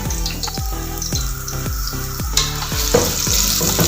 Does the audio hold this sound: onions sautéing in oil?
yes